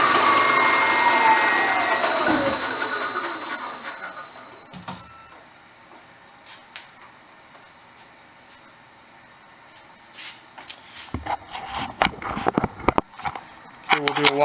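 A 1987 Millport 1630 CNC knee mill with a Centroid retrofit spins up at full speed, a loud whirring whine whose pitch sweeps downward and fades, followed by quieter mechanical clicks and clatter.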